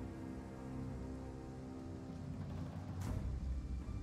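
Steady rain hisses across the battlefield of a Three Kingdoms siege game as fire burns, a dense continuous wash with a slight swell near the end, no voices.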